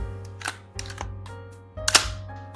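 Bolt of a VFC Colt URG-I M4 gas blowback airsoft rifle cycling by hand, giving a few sharp metallic clacks and slides at close range, alone.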